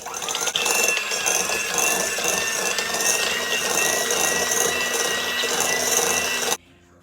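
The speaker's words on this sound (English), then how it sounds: "we're going to cream this on medium speed until it's fluffy" A hand mixer beats cream cheese on medium speed for a no-bake cherry cheesecake pie, a loud, steady whirring grind running continuously for about six seconds before cutting off abruptly.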